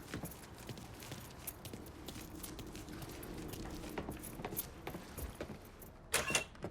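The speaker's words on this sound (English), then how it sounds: "Lincoln, pick up the keys." Truck keys are picked up in the video game Mafia 3, a brief metallic jingle and clink near the end following soft shuffling and handling noises, with no talking.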